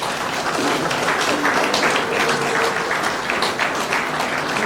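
Sustained applause from an audience at a formal handover ceremony of the Congolese electoral commission, dense steady clapping rising and holding at a fairly loud, even level throughout.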